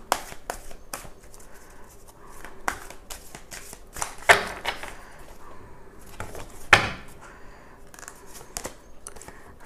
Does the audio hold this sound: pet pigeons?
no